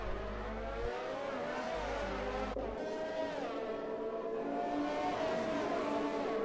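GP2 race cars run at Monaco in F1 2019, high-pitched engines revving and shifting as several cars pass in a tight pack, loud and continuous with a deep rumble cutting in early.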